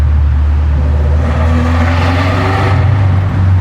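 A 1989 Alfa Romeo Spider engine revs loudly and steadily at about 3,000 RPM with a deep rumbling exhaust, its pitch rising and easing slightly in an enclosed, echoing underground garage.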